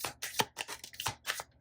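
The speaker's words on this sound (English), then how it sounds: "That's a terrible shuffle." Tarot cards are shuffled by hand in a quick, uneven series of papery riffles and flutters, close and fairly loud with no talking.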